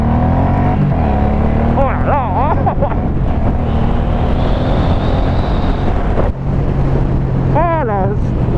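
A Suzuki M1800R Boss cruiser motorcycle engine roars loudly over wind rush as the bike accelerates, with revs climbing in quick shifts; a man exclaims briefly.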